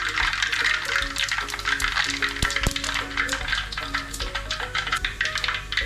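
Mustard seeds and fennel seeds fry in hot oil in a Kerala-style pan, a steady close sizzle with scattered pops and crackles and occasional stirring clinks.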